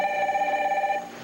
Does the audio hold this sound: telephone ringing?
yes